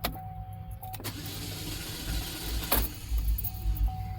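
Starter on a stranded no-start vehicle spinning the engine without catching, a steady mechanical whir throughout with a brief sharper burst partway, recorded close and loud with no talking.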